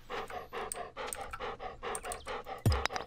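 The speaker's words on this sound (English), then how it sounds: "Stop panting, dog." A dog pants in rapid, steady breaths close by, the rhythmic huffing continuing throughout with a short louder thump near the end, during a Stardew Valley play session.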